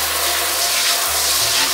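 A strong spray jet pours from a matte-finish kitchen faucet, a loud steady hiss of rushing water close by, with a low hum shifting partway through and no talk.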